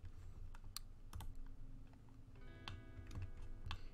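A computer keyboard tapped while modelling in Blender, scattered clicking keystrokes at an uneven pace under a faint electronic whine, close and with no talk.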